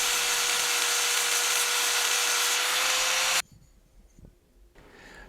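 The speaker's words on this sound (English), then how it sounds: "I will take my flap disc and I will deburr it as well as remove any surface rust that is still left" A flap disc on an angle grinder deburrs a steel pedal and strips its surface rust, a loud, steady abrasive grinding roar that runs unbroken for about three and a half seconds, then cuts off into quieter handling noise.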